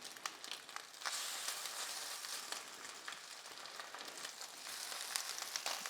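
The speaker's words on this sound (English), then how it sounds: "you can hear that sizzle when they hit the pan" Crab cakes sizzle in a hot pan after being pressed down, a faint continuous crackling hiss with scattered sharper pops, heard alone.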